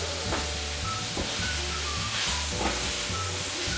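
Carrots tipped into a hot pan set off a loud, dense sizzle that holds steady throughout, with a few brief clatters and stirring knocks rising above the frying hiss.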